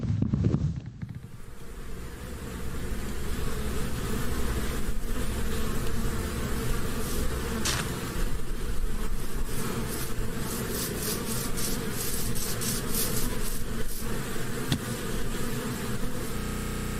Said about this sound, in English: The player hears that buzzing sound effect again before finding a bee with the player's face on it.